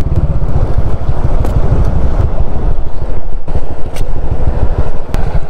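A Suzuki Raider 150 motorcycle is being ridden, its engine droning low and steady up close, with heavy wind rumble buffeting the microphone throughout and no speech.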